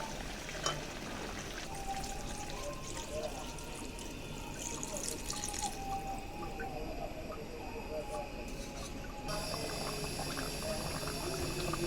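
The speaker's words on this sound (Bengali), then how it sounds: "এখন আমি এর ভিতরে জলের পানি দিয়ে দেবো" Water pours into a pot of beef curry with potatoes that has been sautéed. It makes a steady, continuous splashing rush with faint background noise throughout.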